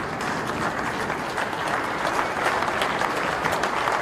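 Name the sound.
audience applause for competition crew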